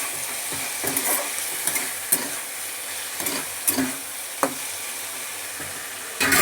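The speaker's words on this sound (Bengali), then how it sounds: "এবার আবার একটুখানি নেড়ে নেব" Spices being stirred in a frying pan while cooking jute greens, with a soft continuous sizzle and repeated scraping strokes of a spoon against the pan, close and fairly loud, with no talking.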